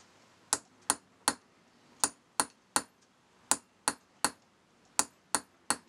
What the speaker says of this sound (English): it involves a rhythmic hammering action to make a little impression into a metal surface